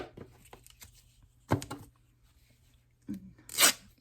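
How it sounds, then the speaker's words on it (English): Paper is torn in a few short, sharp rips spread across a quiet moment, the last one the loudest and closest. "I hope this is going to rip better."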